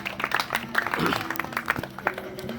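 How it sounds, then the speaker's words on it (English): An audience applauds for Diego, the orange-coloured hunter presented on a zoo teaching show, with dense, noisy clapping mixed under voices talking. "Give a round of applause for Diego"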